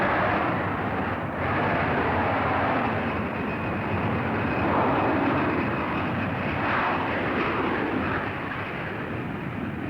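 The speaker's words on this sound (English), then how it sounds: "The Canadian Starfighters aerobatic team opened their performance with a formation takeoff." Lockheed F-104 Starfighter jets of a Canadian aerobatic team roar through a formation takeoff at an air show, giving a steady, broad rumble that holds for the whole stretch with no pauses.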